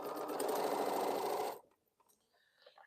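A sewing machine whirs steadily while stitching Crown Royal quilt pieces, close and loud for about a second and a half, then stops, leaving faint fabric handling and small clicks.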